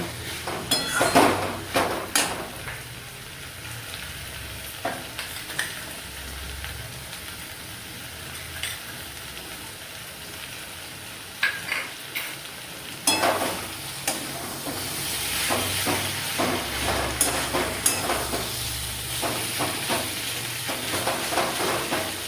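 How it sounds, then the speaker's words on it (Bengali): Kakrol (pointed gourd) being sautéed with a little sugar for kakrol posto, giving a steady close sizzle with repeated spatula scrapes and clinks against the pan, no voices. "খুব ভালো করে এরকম কষানো হয়ে গেছে।"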